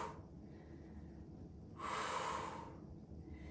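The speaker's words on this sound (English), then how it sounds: "Exhale up, inhale down." Breath during a glute workout, a quiet close exhale swelling into a louder breathy rush in the middle, then fading back to soft room hiss.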